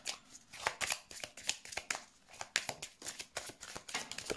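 Tarot cards being shuffled for a reading, a quick run of crisp riffling flutters and soft slaps repeating steadily and up close, with no talk.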